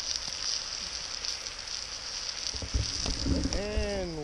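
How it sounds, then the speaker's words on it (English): Steady crackling sizzle of steak in a hot pan, with clattering and some tonal squeaks near the end. "I leave you with a view of the steak sizzling"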